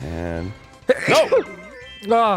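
A man sneezes sharply once while playing games on a commentary recording, with talking just before and just after.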